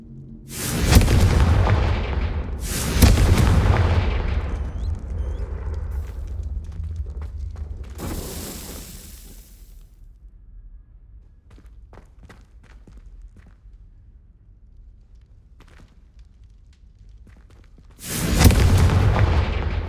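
Confringo fire spell blasts in the video game Hogwarts Legacy: loud booming bursts near the start and again at the end, with a sharper crack midway and quieter scuffing in between.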